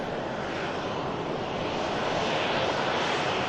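A Sun Express airliner at Manchester Airport roars steadily, a broad, dense engine rumble heard from a distance with no break across the whole stretch.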